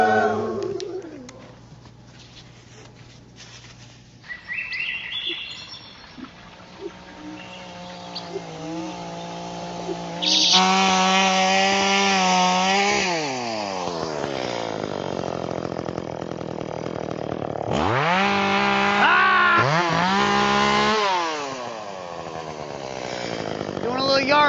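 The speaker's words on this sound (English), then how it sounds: "Sometimes when you're writing a song, you gotta step away from it for a second and chainsaw some shit!" A chainsaw cuts wood during backyard yard work, its engine revving up and down in long, loud, sustained bursts and settling back to idle between cuts over about twenty-five seconds.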